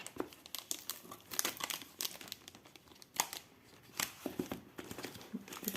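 Close, quiet crinkling and tearing of protective cardboard packaging around a bead parcel, in irregular bursts of rustles and rips with scissors nearby.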